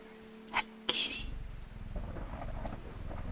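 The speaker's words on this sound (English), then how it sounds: "Ooh, listen to that storm." A video game thunderstorm: a low rumble of thunder rolls in and sustains, with a couple of brief sharp sounds just before it, steady stormy noise filling the background.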